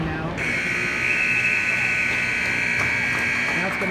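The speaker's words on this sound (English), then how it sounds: "That's going to sound the buzzer for the end of the second period." A loud, sustained electronic buzzer marks the end of an ice hockey period, blaring for several seconds over the noise of an arena crowd.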